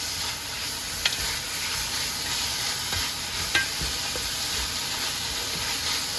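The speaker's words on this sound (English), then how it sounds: "Saute for 2 to 3 minutes." Pepper steak pieces sautéing in oil in a pan on a medium stove, giving a constant loud sizzle and hiss with a couple of light clicks from a utensil, no talking.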